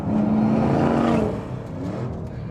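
A 1000HP Mustang engine pulls hard on a winding country road, holding a strong, steady drone before a gear change cuts the pitch, then builds again, close and loud.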